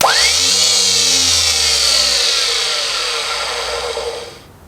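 A newly installed boat anchor windlass motor spins under power, giving a loud, close, steady electric whine with a mechanical hum that holds, then winds down near the end.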